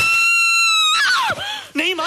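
A woman's high, sustained scream of fright rings out loud and alone for nearly a second, then breaks into agitated, frightened speech and shouting. The scene is a dramatic film moment.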